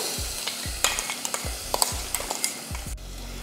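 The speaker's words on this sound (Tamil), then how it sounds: "இந்த எண்ணெயில் கொஞ்சமாக வதக்கி விட்டுட்டு" Ground rasam paste, asafoetida, curry leaves and turmeric sautéing in oil, a constant sizzle broken by rhythmic low scraping thumps of a spoon stirring the pan about twice a second, ending in a soft hiss.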